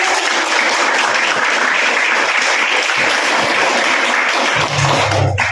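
A class applauds at the end of a university lecture on tax reporting, dense continuous clapping from many hands, loud and sustained throughout with no speech on top.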